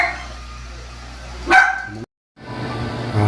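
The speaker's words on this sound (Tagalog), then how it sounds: "maingay yung aso ko. Tahol ng tahol." A single sharp dog bark rings out close by amid faint background noise, followed by a brief silence.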